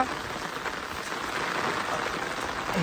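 Steady rain patters on rice paddy fields in Konkan, a dense continuous hiss of drops that swells slightly toward the end.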